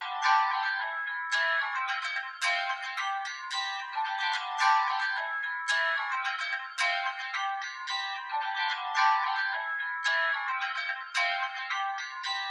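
An acoustic guitar strums rhythmically, sounding thin and bright with almost no low end, steady strokes continuing throughout.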